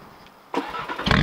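A 500bhp ABT Audi RS3 with a full ABT exhaust system starts up, a sudden loud crank and catch into a deep rumble that swells again as the revs rise.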